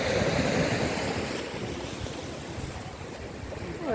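Sea waves break and wash continuously onto a beach, loud and close, with wind buffeting the microphone and a swell rising again near the end.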